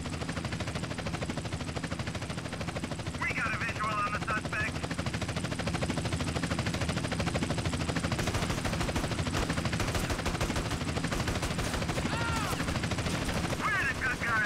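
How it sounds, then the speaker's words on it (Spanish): In the video game GTA San Andreas, a police helicopter's rotor drones throughout, loud and steady, while bursts of rapid gunfire crackle around it. Someone talks over the din. "Nos va a matar la poli desde el helicóptero."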